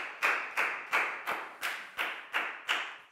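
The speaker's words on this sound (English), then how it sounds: "High five and a big round of applause for Lakgao" Classroom claps for a Year 4 student in a maths lesson: about eight evenly spaced sharp claps, close and moderately loud, with no talk.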